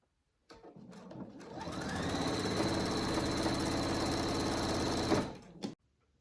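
An electric sewing machine stitches along the side of a small fabric hammock for an animal cage, running steadily for about five seconds at a rapid whirring, ticking pace after a quick start-up, close and fairly loud, then stopping.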